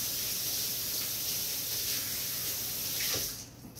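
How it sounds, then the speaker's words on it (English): Tap water runs steadily into a sink during hand washing in a kitchen, a close, even splashing hiss that tapers off as the faucet shuts near the end. "So wash my hands again."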